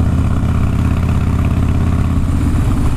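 Harley-Davidson motorcycle engine idling up close, a loud, steady low rumble with an uneven lumpy pulse that holds throughout without voices.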